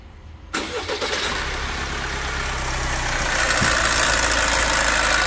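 Opel Astra K engine cranks and catches after a brief quiet start, then settles into a loud, steady idle close by with a faint rattling, knocking undertone, the engine having a timing chain noise.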